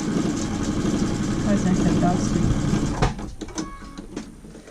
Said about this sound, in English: we're going to go straight seam at 1/4 inch. We're going to sew this down